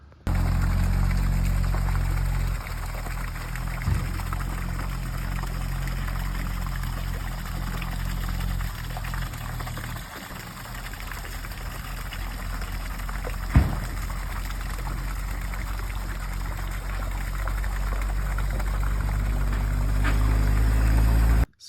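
Old oil drains from the engine of a 1952 Chevrolet 3100 pickup truck, making a steady, unbroken pouring rush that stays loud and even throughout, with a faint clank partway through.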